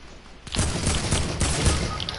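Rapid bursts of AK rifle fire in a video game, a loud, dense fusillade that starts abruptly after a brief quiet moment and runs steadily to the end.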